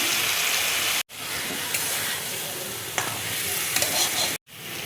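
Masala sizzles and fries steadily in a pan after a splash of water and green chilli paste go in, with stirring scrapes throughout and two brief cut-offs.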